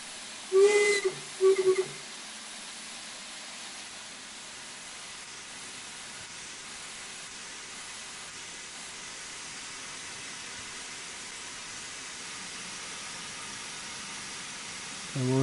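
A steam locomotive in Train Sim World 4 on a West Cornwall railtour gives two short whistle blasts, then a long, steady, quiet hiss of steam that continues alone.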